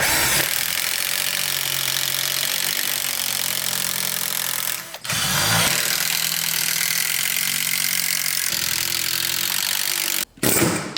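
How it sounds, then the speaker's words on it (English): An air hammer rattles loudly in rapid pneumatic bursts knocking out a bushing on a BMW E46 convertible, with two brief pauses, harsh metallic hammering close by. "we're just gonna hammer it out with a chisel or something. Air hammer, baby."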